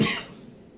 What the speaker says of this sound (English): Oh, I have to cough again.